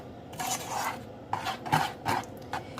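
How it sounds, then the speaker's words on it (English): Banana pudding popcorn being stirred in a bowl, giving a series of dry rasping, rubbing strokes in uneven bursts, close up with no talking. "I'm going to keep mixing."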